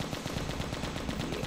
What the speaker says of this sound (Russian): У нас, походу, какой-то пулемет.